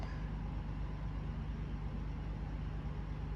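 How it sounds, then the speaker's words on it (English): Electric fan running in the background of a hot room, a steady low hum and broadband whoosh that holds constant and unchanging throughout. "If you can hear the fan in the background"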